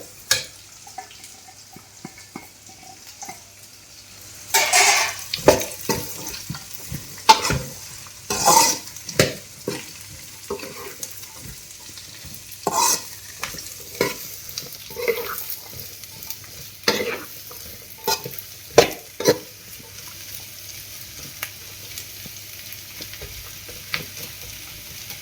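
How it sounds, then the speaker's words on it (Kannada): Four large onions frying in a pan, stirred in bursts of scraping clatter over a steady low sizzle, close and moderately loud. "ಸ್ವಲ್ಪ ಫ್ರೈ ಆಗಲಿ."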